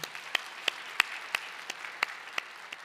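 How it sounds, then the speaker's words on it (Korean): A church congregation gives a short burst of applause during a worship service. The claps are sparse and distinct, spaced at a fairly even rhythm, and they sound a little distant against a quiet hall. "다시 한번 하나님께 영광의 박수 올려드립니다."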